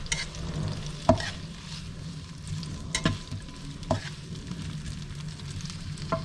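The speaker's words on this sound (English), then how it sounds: "Stir this together." Shallots stirred in a hot pan for vegan pasta primavera, a steady sizzle broken by a few sharp scrapes and clicks of the utensil against the pan at irregular intervals, close and moderately loud with no talking.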